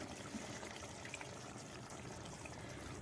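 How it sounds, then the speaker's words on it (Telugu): Tamarind water poured into a pan of softened onions for an Andhra-style fish curry cooked over a wood fire, a steady, faint liquid pour running without pause for about three seconds. "చింతపండు పోసుకుంటున్నా."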